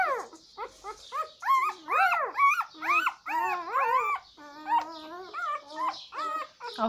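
A litter of newborn hunting dog puppies whimpers and squeals in a rapid series of high, wavering cries, close and clear with no other sound around them.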